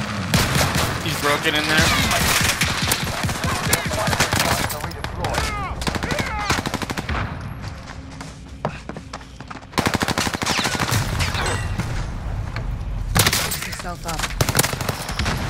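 Rapid bursts of video game gunfire crackle almost continuously, loud and dense, with a voice speaking briefly over the shooting.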